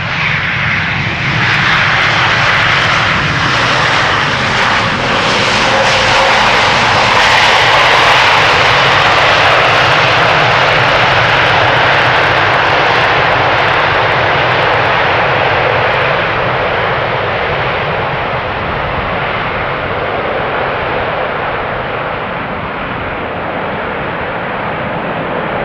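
A330neo airliner taking off at Schiphol Airport, a loud, sustained jet engine roar that holds steady, then slowly fades over about twenty-five seconds.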